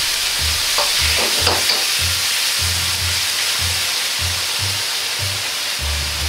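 Soup or water goes into a sizzling pork and mushroom stir-fry in oyster sauce, a loud steady hiss with rhythmic low scraping of the wok as the ingredients are tossed.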